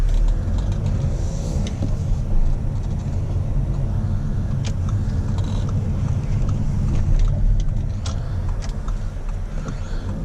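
A 2015 Audi TT with a front-wheel-drive diesel engine pulls away, heard from inside the cabin as a steady, deep engine drone and road rumble with faint mechanical rattles, continuous and without talk.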